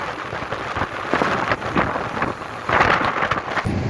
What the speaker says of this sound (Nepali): कस्तो बेसरी हावा लागिरहेको छ